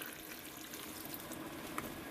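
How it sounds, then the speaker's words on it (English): Beef broth pours into a pot holding a pot roast, giving a steady, close liquid splash and gurgle with one small clink near the end, with no voices. "And then we're going to add our beef broth"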